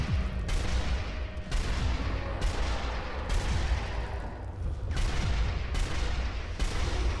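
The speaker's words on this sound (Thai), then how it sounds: "อุ้ยเรายิงหัวไปหลายนัดเหมือนกันนะเนี่ย" Repeated heavy rifle shots fired at a zombie boss in Sniper Elite Nazi Zombie Army 2, loud booming reports recurring at irregular intervals over a rumbling battle din.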